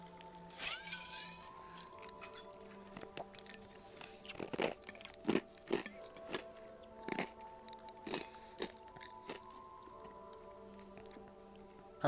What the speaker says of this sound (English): I love eating ice.